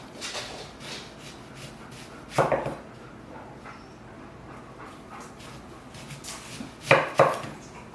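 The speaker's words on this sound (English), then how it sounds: "Alright, what we're going to do is just thin slices." A knife slicing a peeled onion into thin slices on a cutting board for Philly cheesesteak, heard as a few sharp, close chopping strikes in two brief bursts over a quiet background.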